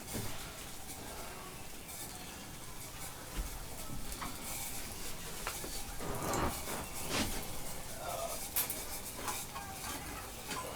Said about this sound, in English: That is some boiling water right there.